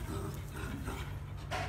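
A Corgi being trained to let go of a toy makes soft whimpering dog sounds, partly buried in a continuous, fairly loud background rumble.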